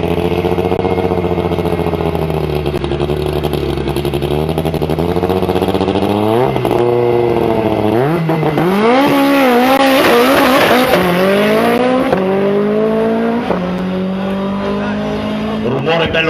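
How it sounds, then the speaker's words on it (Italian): Hillclimb race car engine at a hill race event, revving hard and loud through repeated rising pitch sweeps as it hooks each gear, with distinct shift breaks, while a commentator talks throughout. "Rumore bello pieno quando aggancia la marcia."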